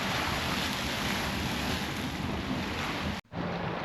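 Grotto, a fountain geyser in Yellowstone's Upper Geyser Basin, erupts with a steady, loud, broad rushing roar of water and spray that cuts out abruptly near the end.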